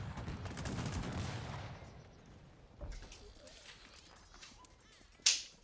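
Cannon artillery fire in Cossacks 3 during a ranked match playing as Austria: a rumbling barrage of booms fades out, then a sharp distant blast and a final loud crack, with game effects in the background.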